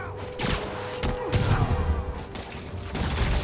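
Enemies open fire in Spider-Man Remastered, a handful of sharp gunshot bursts cracking out at irregular moments over a busy game soundscape.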